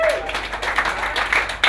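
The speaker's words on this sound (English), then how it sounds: "Please give a big round of applause for your next comedian" An audience at a stand-up comedy show in Brooklyn bursts into loud, close applause with scattered cheers, while an emcee's voice carries over the clapping.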